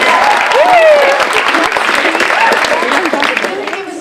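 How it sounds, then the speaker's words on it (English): Loud, dense audience applause at a school talent show, many hands clapping steadily for several seconds, with a brief whistle near the start and a few voices mixed in. "I just wanted everyone to be able to give her a round of applause"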